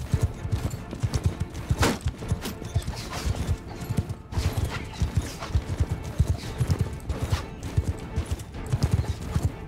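Horses galloping in the medieval battle game Mount and Blade II: Bannerlord, a rapid, continuous rhythm of hoofbeats from several mounts, loud and close with brief clattering surges.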